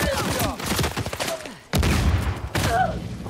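Burst-heavy gunfire in an Uncharted 4 multiplayer match, with sharp shots and bursts crowding the clip, a brief lull midway, then more firing; background voices and game sounds mix underneath.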